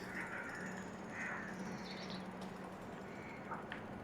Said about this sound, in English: I hear some starlings too.